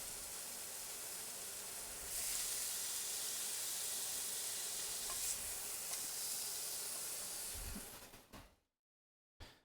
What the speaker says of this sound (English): I'm going to sear the skin side a little more